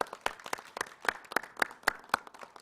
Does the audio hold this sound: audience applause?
yes